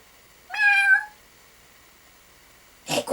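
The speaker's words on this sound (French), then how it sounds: "Le chat miaula." A cat gives one clear, close meow lasting about half a second, followed by silence before a voice begins speaking, set in a French audio tale.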